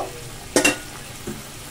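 Paneer cooks in a pan over a low, steady sizzle, broken by two quick close clatters of stirring in the middle and a softer scrape near the end.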